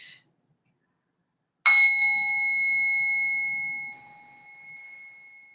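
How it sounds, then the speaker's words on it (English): A single bell struck to begin a restorative yoga posture rings out clearly after a brief silence, its pure tone sustaining and slowly fading over several seconds in a quiet room. "I'll ring the bell to start, and I'll ring the bell to come out."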